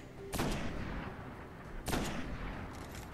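Sniper rifle shots in the video game Destiny, two loud, sharp cracks about one and a half seconds apart, each with a short decaying tail over quiet game ambience.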